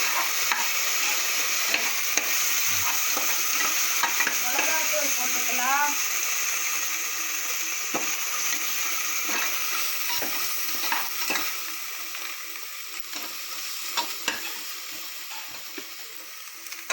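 Tomatoes frying in a pan for a home-style chicken curry, a steady sizzle with brief stirring scrapes and clinks running throughout, fairly close, with some talk over it.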